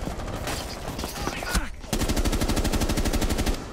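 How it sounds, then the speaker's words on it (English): Rapid automatic gunfire from Caveira in the Rainbow Six Siege video game, loud bursts that pause briefly and then resume as a dense, fast stream of shots, with game sounds in between. "Kavera's shooting. Kavera's shooting me somewhere."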